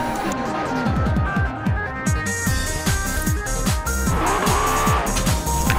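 An Acura NSX brakes hard, its tires squealing loudly and continuously while the engine rapidly drops through a series of revving downshifts, heard close and without speech.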